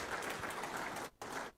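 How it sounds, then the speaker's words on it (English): An audience at a regulators' and policymakers' conference applauds in a dense, steady wash of clapping that briefly dips and then resumes, heard faint and from a distance. "A round of applause for Mr."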